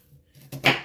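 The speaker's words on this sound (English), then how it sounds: "we're just going to make little chops going to the edge of the onion" A kitchen knife makes a few quick close chops through an onion on a cutting board, one sharp cut followed by a louder one, with no talking.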